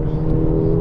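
A 2015 facelift Mercedes-Benz A-Class engine droning steadily under load as it is driven hard through a corner on a race track, a sustained loud hum with strong low harmonics.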